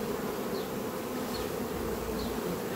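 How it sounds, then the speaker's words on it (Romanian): Honeybees buzz around a hive entrance where robbing bees are at work, a close, continuous droning hum with a few passing whines of individual bees, with no voices. "iată o altă albină din aceea"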